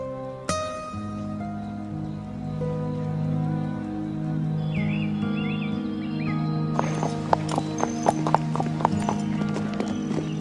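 Horse hooves clip-clop in a steady, evenly spaced rhythm over a continuous musical score, growing sharper and more distinct partway through, with occasional bird-like chirps above.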